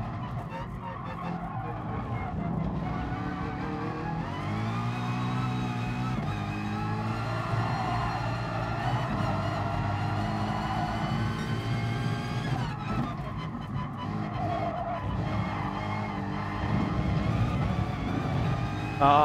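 A Lexus race car engine in GT Sport, held at a steady, loud drone whose pitch climbs and falls as the car works through corners, running continuously without talk.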